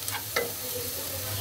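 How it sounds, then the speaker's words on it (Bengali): Dry spices fry briefly in oil in a pan, a soft steady sizzle with a couple of quick scraping stirs, close and quiet with no talking. "মশলাগুলো আমার ভাজা হয়ে গেছে"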